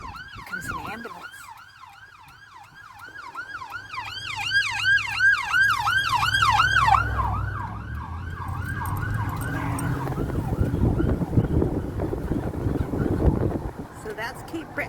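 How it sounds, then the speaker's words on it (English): An ambulance siren wails from behind a vehicle crossing the Canso Causeway in Nova Scotia, a rapid warbling yelp that grows louder, then gives way to wind and road roar as it closes in; voices talk over it. "Ambulance coming behind us."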